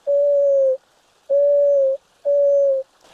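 Someone vocally mimics an unusual owl call, three flat, even hoots spaced about a second apart, each held steady and loud at close range.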